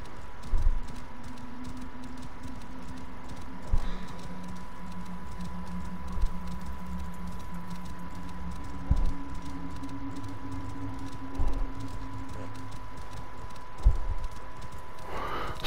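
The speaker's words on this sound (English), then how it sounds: "It's almost like there's some kind of echoing of footsteps." Footsteps echo from time to time in a desert tomb in Assassin's Creed Origins, soft scattered taps over a steady hum with a few louder thuds spaced several seconds apart.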